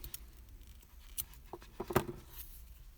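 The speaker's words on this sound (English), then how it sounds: "We can cut this yarn." Yarn snipped off a crocheted Super Mario figure, a few faint quiet scissor cuts with one slightly sharper snip near the middle, close and soft in a still room.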